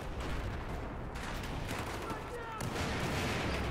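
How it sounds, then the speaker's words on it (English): Rapid bursts of gunfire in Battlefield 4 crackle in quick succession, with a short pause before another volley of shots. "Oh, so much gunfire."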